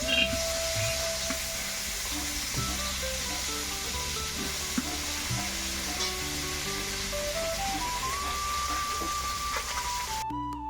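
Mixed shing, magur and lata fish frying in a pan at home, with a steady close sizzle and hiss running throughout, along with occasional stirring clinks and faint background tones.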